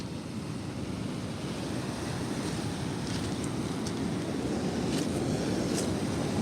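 Ocean waves surge on the Oregon coast, making a steady, loud, broad roar of surf and rushing water with wind noise and no break throughout.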